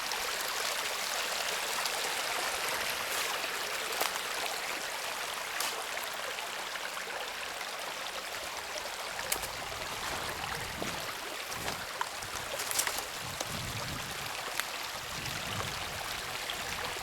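Stream water flows down a hillside over a woodland trail, a continuous close rushing and trickling wash with small gurgles, steady throughout with a few faint knocks near the end.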